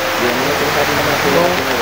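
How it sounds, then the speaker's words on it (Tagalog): Very heavy rain pours down as a steady, dense hiss that fills the whole moment without pause, loud and close, with voices faintly mixed in. "sobrang lakas talaga yung ulan"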